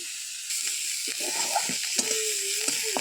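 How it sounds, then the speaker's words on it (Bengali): Onions fry in a small amount of oil with a soft, hissy sizzle, while a few light utensil taps and scrapes sound close by. "পেঁয়াজটা একটু ভাজা ভাজা হয়ে গেল, আর একটু ভাজা ভাজা হোক ভালো করে"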